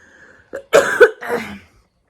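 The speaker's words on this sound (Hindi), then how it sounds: "वीडियो बनाते बनाते भी मेरे को खांसी हो रही है।" A few sharp, close coughs from a woman ill with viral fever, in quick succession, nearly alone with only a faint voice before them.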